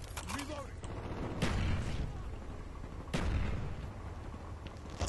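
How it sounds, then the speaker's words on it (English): Video game battle sounds with a grenade-like blast: two heavy booming impacts land a couple of seconds apart amid ongoing combat noise, loud and close, with talk faintly mixed in. "Sounded like there was somebody... throwing a grenade at me or something?"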